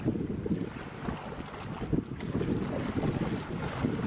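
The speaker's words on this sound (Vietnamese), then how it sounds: "chiếc ghe đang có phô máy để neo đậu này." A grey-painted Binh Dinh wooden fishing boat moored at a harbor, its engine rumbling as it revs, a dense low continuous drone mixed with wind buffeting the microphone, steady and close.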